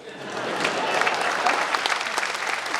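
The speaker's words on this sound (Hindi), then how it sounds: "यहाँ से वहां तक तालियों के साथ मुझे बताना" Audience applause at a Holi festival comedy poetry gathering in Mewar: a dense, loud wave of crowd clapping that swells in and holds steady for a few seconds, with no voices over it.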